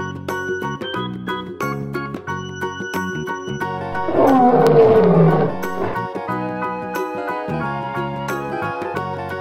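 Lion roaring over a backing track of music, a loud rough growl lasting about two seconds near the middle of the clip.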